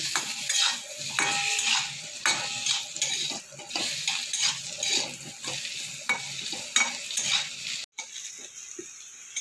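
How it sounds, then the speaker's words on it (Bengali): Potato pieces fry with a little turmeric in a kadai, turned until reddened; a steady sizzle runs under repeated stirring and scraping of utensil against the pan, with a short break near the end and no talking. "সামান্য একটু হলুদ দিয়ে এটাকে ভালো করে লাল করে ভেজে নেব।"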